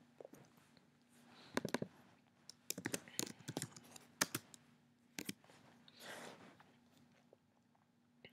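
Sporadic keystrokes on a computer keyboard, short bursts of close clicky taps with pauses between groups, heard alone in a quiet room.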